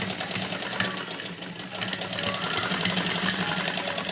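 Sewing machine stitching a heavy-size suit along its fitting marks, a steady rapid needle rattle that runs continuously through the clip at close range with no talking.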